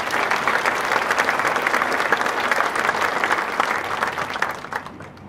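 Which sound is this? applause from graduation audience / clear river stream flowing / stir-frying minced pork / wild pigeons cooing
applause from graduation audience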